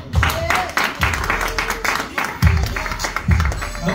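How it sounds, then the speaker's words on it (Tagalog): An audience at a business seminar applauds as a speaker comes on stage, with steady clapping that continues under a voice speaking over the top. "Milong-milong palakpak para kay Dr. Anthony So!"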